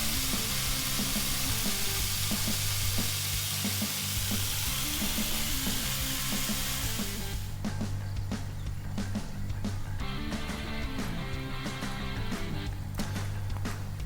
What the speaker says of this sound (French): on va faire cuire nos merguez à feu moyen